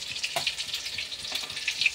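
Chicken pakoda frying in hot oil gives a brief, bright crackle and sizzle with small popping bursts throughout.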